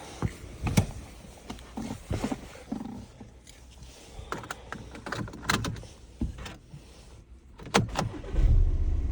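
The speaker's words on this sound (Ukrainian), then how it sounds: "Чітко заводиться, не димить, не коптить." Volkswagen Passat B7 2.0 TDI diesel with DSG gearbox starting and idling, a rough low engine rumble with scattered clunks and knocks, a louder surge near the end.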